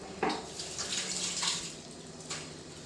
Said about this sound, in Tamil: லைட்டாக அந்த மேரினேட் பண்ண தண்ணி ஊற்றிக்கிறேன்